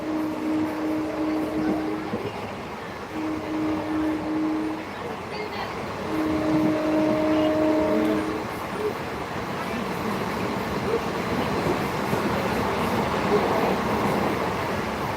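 Steady rumble of a moving train between Kamareddy and Nizamabad, heard from inside, with rattling wheels on rails, interrupted by a long droning horn sounding a few times.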